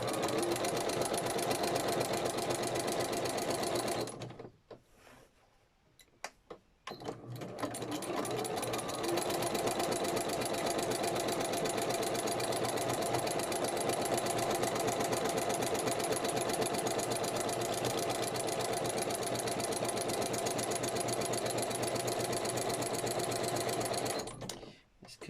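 Sewing machine fitted with a big walking foot stitches lace onto a fabric journal cover, whirring steadily at close range, stopping for a couple of seconds early on, then running on evenly to the end.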